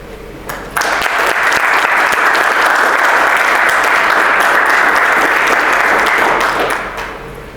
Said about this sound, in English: One last round of applause for Lieutenant Colonel Williams and Lieutena